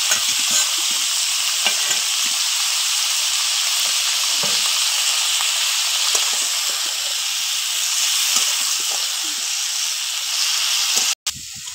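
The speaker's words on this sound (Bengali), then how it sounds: "কষিয়ে নেব সবজিটা। ভেজে রাখা মাছের মাথাগুলো দিয়ে দেবো।" Lau shak vegetables with fried katla fish heads sautéing in a pan, a loud steady frying hiss with bursts of stirring, continuous to the end, where it cuts out for an instant.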